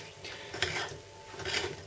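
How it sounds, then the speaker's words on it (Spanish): Chocolate chip muffin dough is mixed by hand in a bowl, making soft, faint scraping and stirring strokes in an uneven rhythm, close by and without talk. "vamos a mezclar de nuevo todos los ingredientes para que vaya formando la masa"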